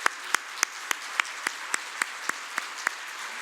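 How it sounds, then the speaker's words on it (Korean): Regular, evenly spaced claps at a church Sunday service, as the congregation applauds its teachers; the claps are sharp and fairly faint over a quiet room, sounding like only a few hands. "박수했으면 좋겠습니다."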